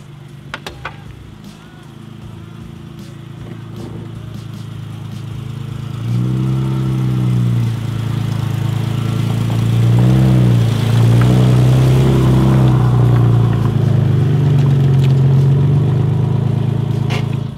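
A CEO's car pulls up at the office, its engine rising from a quiet idle into a loud, throaty revving that swells and holds close by, with no talk over it.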